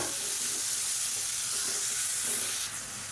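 Chopped onions sauté in a pan with a steady broadband sizzle and hiss that holds evenly throughout, close and fairly loud, with no talking.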